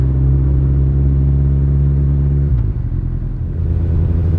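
A Honda CB motorcycle rolls over a cobblestone city street, its engine a loud, steady low rumble with a sustained hum that shifts tone partway as the bike bumps along, with no talk.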